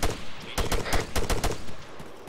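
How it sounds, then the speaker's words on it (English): Gunfire in the military shooter game ArmA 3, a rapid string of loud, closely spaced shots and short bursts with no talking. "I heard shots too."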